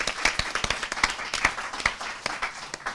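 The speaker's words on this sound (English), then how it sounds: "let's give him a round of applause" Scattered clapping from a small audience at a poverty report launch, a few distinct claps at moderate level across a short round.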